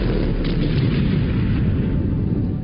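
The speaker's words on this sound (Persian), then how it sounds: "انفجاری مهیب آنگونه که حتی تصورش در ذهن انسان گنجانده نمی شود رخ می دهد" A huge explosion sound effect depicting the Big Bang: a loud, continuous, deep rumbling roar that stays dense and heavy for the whole stretch.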